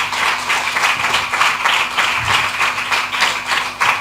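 Church congregation at a special prayer gathering in Dandeli clapping loudly in a steady, dense, continuous burst of applause with no talk over it.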